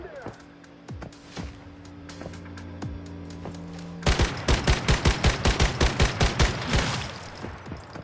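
Gunfire in the Once Human video game: after a quieter stretch with scattered single shots, a loud rhythmic burst of rapid automatic fire takes over for about three seconds, then tapers into a few trailing shots, with speech mixed in.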